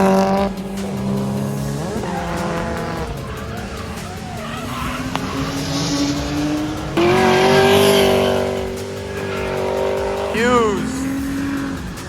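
A drift car at a New England drift event revs hard and sweeps through slides, its tires squealing over a roaring engine, with crowd chatter and talk close by underneath.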